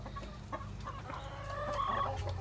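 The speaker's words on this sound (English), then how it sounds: "These are the roosters of the same breed." Roosters of a tailless, double-tufted breed clucking softly on a farm, with short calls scattered over a low steady background hum.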